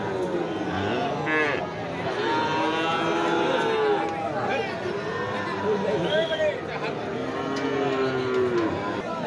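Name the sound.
cattle mooing while bulls are unloaded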